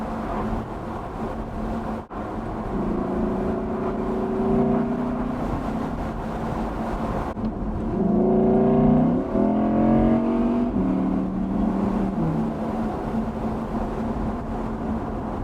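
An Audi R8 V10 Spyder accelerates with a steady engine drone, then rises through several rapid revving climbs and gear changes, loud and close over a constant background rush.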